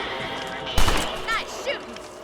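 A single sharp gunshot cracks out in Red Dead Redemption on PS3 during a rabbit hunt, followed by fainter game sounds.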